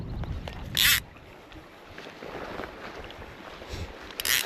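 Breeze buffeting a microphone beside Hot Creek in the Eastern Sierra during a dry fly fishing outing, giving a soft, uneven low rumble with two brief sharp rustling bursts of clothing or gear handling.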